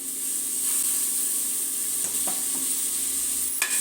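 Tomato frying in a pan, a steady loud sizzle with occasional spoon scrapes and knocks as it is stirred, the last scrape sharper near the end.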